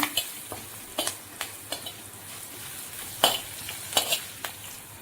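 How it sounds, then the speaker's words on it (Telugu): Garlic tempering for a mango ginger pickle spits and splutters in hot oil, a close background sizzle broken by sharp irregular pops and crackles, with no speech. "మంచి రెడ్ ఫ్రై అయితే ఎల్లిపాయలు టేస్ట్ బాగుంటాయి ఎగుతున్నాయి చూసారా ఎంత బాగా ఎగుతున్నాయో"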